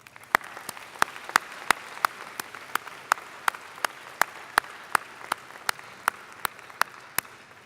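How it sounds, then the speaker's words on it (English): Graduates at a Faculty of Arts convocation give a round of applause: a soft, distant wash of clapping under a steady series of sharp, evenly spaced loud claps that ring out about three times every two seconds. "round of applause."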